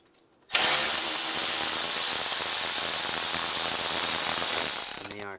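A power tool with an 8 mm socket loosens intake bolts on a 2007-2013 Chevrolet Silverado 1500, giving one continuous loud, close ratcheting whir of about four seconds that winds down at the end.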